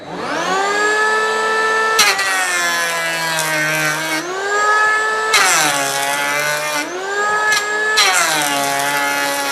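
A cordless electric wood planer whines at a steady high pitch, its tone dropping and surging several times as it bites into the wood, with no talk.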